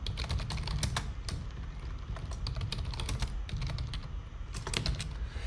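Rapid, continuous clatter of keys as JavaScript code is typed on a computer keyboard, close-miked clicks in quick irregular runs over a low steady hum, with no speech.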